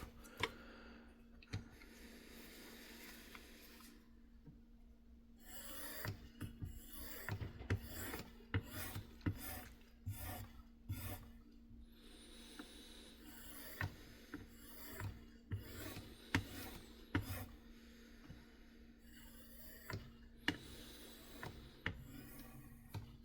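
A knife on a Work Sharp Precision Adjust is drawn across a strop to remove the burr, giving quiet, repeated rasping strokes in irregular bursts with brief pauses between, faint and close.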